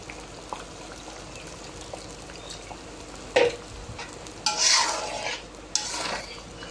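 Hot water is poured into a pan of chicken roast with green chili, giving a sudden hissing, bubbling rush after a few quiet clinks and stirs, then a short final splash.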